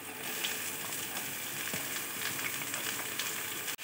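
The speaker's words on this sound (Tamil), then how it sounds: "கருவேப்பிலையும் சேர்த்துட்டேன். நல்லா சேர்த்து கொஞ்சம் வதக்கிங்க." Curry leaves sautéing in hot oil in a pan while making kuzhipaniyaram at a village street-food stall, a steady, dense sizzle and crackle running loud and unbroken throughout with no voices.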